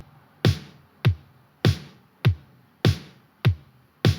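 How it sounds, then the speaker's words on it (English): Indie pop drum pattern with a steady four-to-the-floor kick and snares landing on beats 2 and 4, seven evenly spaced punchy hits with bright snare tails, loud and dry with no other sounds. "4 to the floor kick with snares on the 2 and 4."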